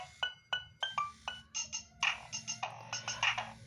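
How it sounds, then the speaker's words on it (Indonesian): A nostalgic polyphonic ringtone plays from a Nokia N-Gage QD phone, a bright, evenly paced run of short electronic notes with a steady bouncing rhythm, heard up close and on its own. "Ini nada dering yang pernah booming di FTP atau sinetron Indosiar ya"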